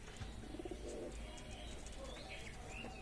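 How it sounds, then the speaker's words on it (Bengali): Soft cooing from Indian roller pigeons (giribaz) sitting in a row murmurs in the background among faint chirps, set against a low outdoor rumble with no talking. "সব পায়রাগুলো বন্ধুরা লাইন দিয়ে বসে আছে।"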